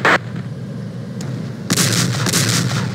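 Tank cannon fire in the video game ArmA Cold War Assault: a sharp blast at the start, then a second heavy booming report with a rumbling tail, loud and near, no talk.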